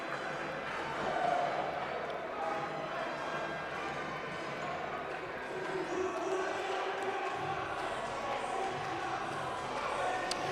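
Steady crowd noise in a gym during a Wayne County CC Wildcats vs Henry Ford College Hawks men's college basketball game: a continuous, fairly loud murmur of many voices with occasional ball bounces and sneaker squeaks.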